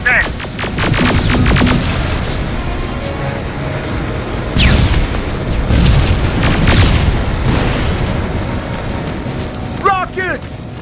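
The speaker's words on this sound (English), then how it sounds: "Rockets! They're heading this way!" Rocket explosions in Terminator Resistance rumble as heavy, booming blasts over a dense roar of battle noise, with several louder bursts and shouted voices in the mix.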